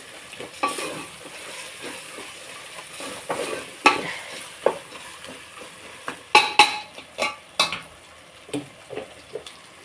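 Onions and green chillies fry in a pan while a spoon stirs them, producing a steady soft sizzle broken by sharp scraping and clanking strokes against the metal, close by and loud in bursts, with no voices.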